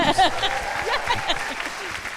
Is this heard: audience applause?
yes